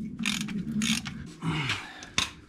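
A ratchet clicks in short runs while loosening a bolt on a VW Golf 2 during clutch and gearbox work, close and fairly quiet, ending in a sharp metallic knock.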